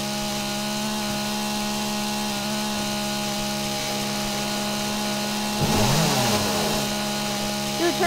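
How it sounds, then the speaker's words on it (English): A chainsaw runs in the survival game 7 Days to Die, a steady engine drone with harmonic hum that flares into a louder revving burst near the end. "Dude, turn your chainsaw off."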